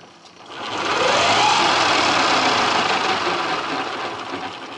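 An electric motor fitted to a Dnepr motorcycle spins up, its whine rising within the first second into a steady, loud mechanical hum with a faint rattle, then easing slightly near the end.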